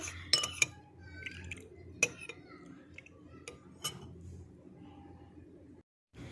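Spoon mixing rose water skin remedy in a small bowl, sharp clinks and light scraping taps spread through a quiet room, near and faint between strikes.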